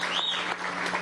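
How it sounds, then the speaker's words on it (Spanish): Crowd applause at the inauguration of a container terminal at the Port of La Guaira, a brief, dense burst of clapping from many hands heard on its own. "Un aplauso para Darío Vivas"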